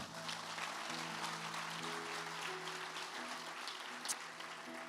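A church congregation applauds during a sermon, a steady wash of many hands clapping with organ or keyboard chords sustained underneath and a lone sharp accent near the end.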